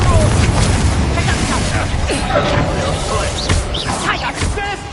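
Spell explosions from Bombarda and Confringo in Hogwarts Legacy, loud booming blasts and crackling bursts layered over combat noise, with whooshing effects and a voice shouting over them.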